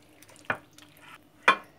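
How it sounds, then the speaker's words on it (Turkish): Purslane and yogurt mixture seasoned with salt and black pepper, stirred by hand in a bowl: two distinct scraping strokes about a second apart, with quiet low rustling between them and no talking. "Ve güzelce şöyle bir karıştırıyoruz iyice."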